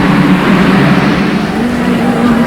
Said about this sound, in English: as the throttles are opened up and away they go